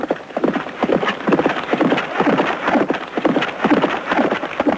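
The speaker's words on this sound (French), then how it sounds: "tir à l'arc à cheval" Rapid, rhythmic hoofbeats of a galloping horse during yabusame mounted archery pound steadily, fairly close and loud, with no voices.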